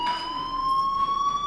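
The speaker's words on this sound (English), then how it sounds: "Hey, do you hear that fire alarm?" A fire alarm in the video game Life is Strange sounds as a steady electronic tone, loud and continuous with no pauses or talk.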